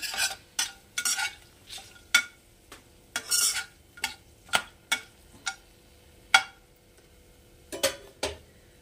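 A utensil scraping and tapping in a pan in irregular strokes, with a faint sizzle of spices frying for paneer kalia between the stirs; no talking.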